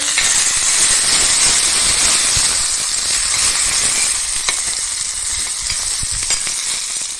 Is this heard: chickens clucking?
no